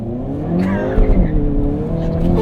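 A 2022 Hyundai Kona N accelerates hard from a standstill, its engine note rising steadily and loud throughout with a brief tire chirp midway, close to the listener and under light road noise.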